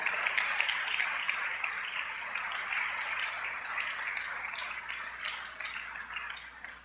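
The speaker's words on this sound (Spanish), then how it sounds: "dele un fuerte aplauso a Dios" Congregation applauding during a Sunday church service, a continuous dense patter of many hands that holds steady for several seconds and softens slightly toward the close, with no voices over it.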